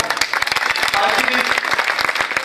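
Applause rolls through a crowd at a live music concert, dense and continuous clapping with a voice speaking over it throughout.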